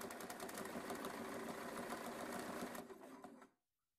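A sewing machine stitches steadily while quilting fabric along a previously stitched line, a loud, even mechanical whir heard alone for about three and a half seconds before it stops abruptly.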